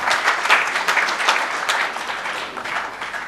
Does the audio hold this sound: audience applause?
yes